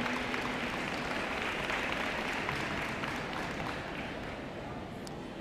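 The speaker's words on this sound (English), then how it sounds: "Give them a round of applause." A banquet hall audience at a school athletics banquet applauds the tennis team, a sustained, even wash of many hands clapping that eases slightly toward the end.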